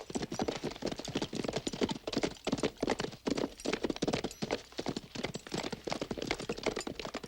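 Rapid, steady clip-clopping of horse hooves, close and fairly loud, with a rhythmic trotting beat and no talking.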